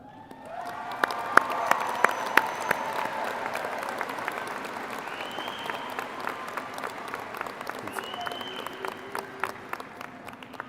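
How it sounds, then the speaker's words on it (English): Applause and light cheering fill a high school graduation ceremony, a broad crowd wash with scattered sharp claps and occasional whoops standing out. "Please hold your applause until all have stood."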